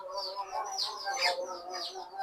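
Giribaz pigeons feed their chicks with a steady run of thin, high chirping and squeaking calls, close by and fairly quiet, with no voices.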